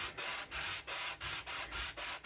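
A sanding block rubs back and forth over an embossing metal plate in six or seven steady, evenly spaced strokes, close and dry, with no talking.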